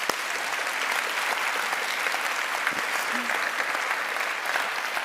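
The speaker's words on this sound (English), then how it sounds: "Let's give them another huge round of applause." An audience applauds steadily at a youth talk event, a dense, even wash of clapping from a large crowd, continuous and moderately loud with no talking over it.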